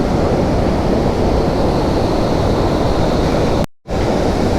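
Heavy monsoon rain pouring at Surlabi waterfall near Sakaleshpura, a dense, constant roaring wash of water up close, briefly cut by a sudden dropout near the end.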